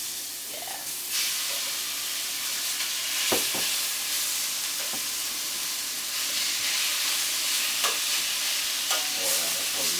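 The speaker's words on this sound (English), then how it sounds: "put in half the meat and get it seared nicely. It's gonna sizzle good" Lamb meat for a Moroccan paella sears in a hot pan, giving a loud, continuous sizzle and hiss, with occasional stirring clinks and tong scrapes near the listener, and no talking.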